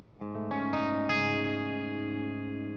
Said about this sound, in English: Now if I put on preset number 1, it should give me a little bit of delay